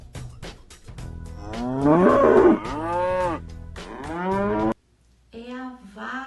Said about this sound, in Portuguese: É a vaca.